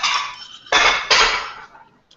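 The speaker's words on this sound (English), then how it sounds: "just let me get a plate" Plates and dishes clatter in a kitchen as a plate is pulled out while preparing Malaysian satay, with two sharp, bright ceramic crashes following an initial rattle, close and loud.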